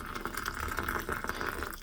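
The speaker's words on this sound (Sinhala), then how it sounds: "දැන් මම මේකට උණු වතුර එක දාගන්නවා" Hot water pours into a bowl of Japanese miso soup made from packet mix, giving a steady, close gurgling stream for about two seconds with nothing else audible.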